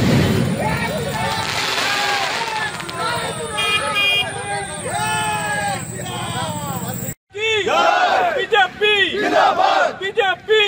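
A large street crowd in Karimganj chants slogans loudly and rhythmically in celebration of the Sribhumi district naming, with car horns tooting through the din and a brief gap before the chanting resumes.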